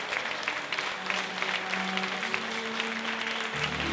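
Audience clapping steadily at the close of a community festival stage show in Catalonia, featuring three groups from the Les Oliveres civic centre, sustained dense applause throughout with a faint tonal hum underneath.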